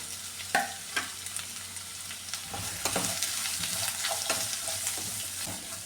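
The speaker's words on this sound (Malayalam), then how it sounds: "ഇനി ഈ ചെറിയുള്ളി സവാളയും കൂടി ഇട്ട് കൊടുക്കാം പച്ചമുളകും കറിവേപ്പിലയും വറ്റൽമുളകും" Shallots, onion, green chili, curry leaves and dried chili sautéing in hot oil, a loud steady sizzle with repeated sharp stirring knocks and scrapes.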